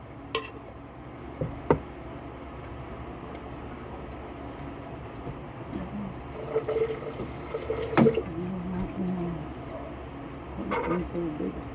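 Water poured into a cooking pot while making ginisang ampalaya, a soft, faint splashing and trickling in bursts alongside clinks of a pot, with a person speaking over it.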